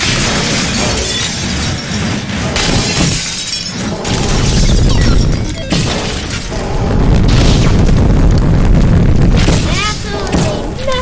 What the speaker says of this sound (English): shoot the reactor and absolutely nothing goes wrong